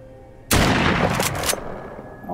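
Sharp gunshot from a handgun in Walking Dead: Saints & Sinners, a sudden loud crack followed by a couple of quick further reports and a decaying tail, with no talk over it.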